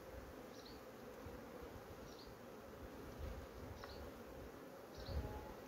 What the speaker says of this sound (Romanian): Albinele ia siropul, asta este important.